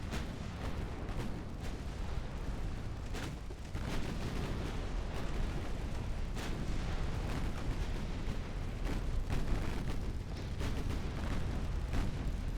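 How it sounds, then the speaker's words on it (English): A torpedo strikes a ship in the naval game Ultimate Admiral: Dreadnoughts amid 1890-era warship combat, heard as a continuous rumbling roar of explosions and booming gunfire that stays dense and loud throughout. "Oh, we managed to score a torpedo hit"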